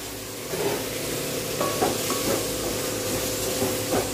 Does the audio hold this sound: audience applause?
no